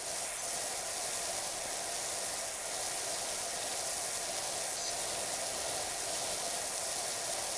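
A pressure washer runs on auto spray in PowerWash Simulator, producing a continuous bright hiss of spraying water that holds steady throughout with no talking.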